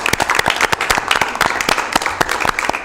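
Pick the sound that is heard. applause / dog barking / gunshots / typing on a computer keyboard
applause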